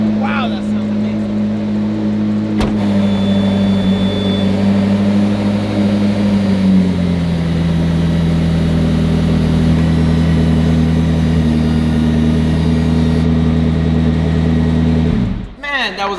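A McLaren supercar engine runs loud and close, holding a steady idle whose pitch dips slightly partway through before the sound cuts off near the end.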